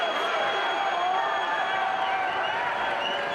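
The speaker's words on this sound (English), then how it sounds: "You can hear and notice the decibel level here inside ShoWare Arena is rising." A large crowd roaring inside ShoWare Arena during a women's football game between Green Bay Chill and Seattle Mist, a steady loud wash of cheering and noise filling the space.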